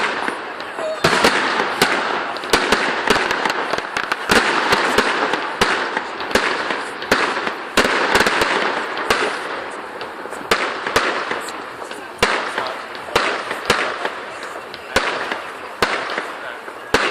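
Amateur fireworks at a 2013 display go off in a dense, uneven barrage of sharp bangs and crackles for well over fifteen seconds, with the loudest cracks landing in irregular bursts and faint voices scattered underneath.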